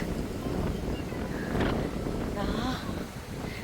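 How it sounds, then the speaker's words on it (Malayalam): Strong wind buffeting the microphone in a constant low roar on a high point at the Al Khobar Corniche, with people talking faintly underneath. "നല്ല കാറ്റുണ്ട്."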